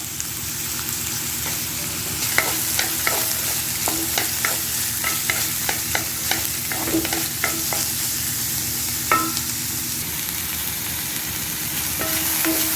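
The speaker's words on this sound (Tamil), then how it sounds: "பூண்டு, பச்சை மிளகாலாம் வதக்கிட்டு இப்போ நம்ம சிக்கன் போடுவோம்" Onion, garlic, green chili and ginger sizzle steadily in a pan for a chicken vadai recipe, with repeated scraping stirs of a spoon cutting through the constant frying hiss.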